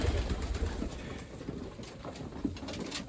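Breeding pigeons coo softly while feeding on barley and cabbage, their low, repeated calls fairly faint and overlapping, with light scuffling in the background.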